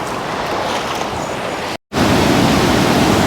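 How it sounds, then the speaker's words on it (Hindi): Fast-flowing water near Kotabagh waterfall makes a loud, steady roaring hiss, close and continuous, broken by a brief dropout before resuming even stronger. "बहुत तेज़ पानी है, क्या फ्लो है ये देखो आप।"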